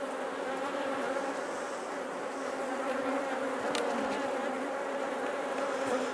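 Honey bees fly around an opened hive after a shook swarm, making a steady, dense buzzing that stays even throughout, with one louder bee passing near.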